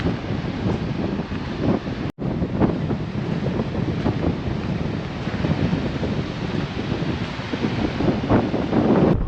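Strong wind buffeting the microphone on a beach near Esperance, Australia, a loud continuous roar with gusts and likely surf beneath, no voices, with a brief dropout near the two-second mark.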